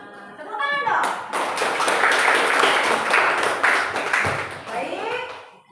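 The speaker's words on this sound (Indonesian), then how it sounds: "Tepuk tangan dong." A classroom of students bursts into lively clapping that lasts several seconds. Children's voices rise at the start and as the applause fades, and a teacher's voice can be heard around it.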